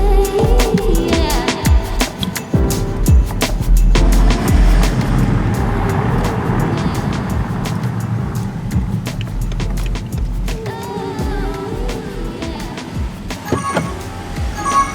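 A car pulls away after a handover pickup, with engine and road rumble under a scatter of clicks and knocks, steady and fairly close throughout.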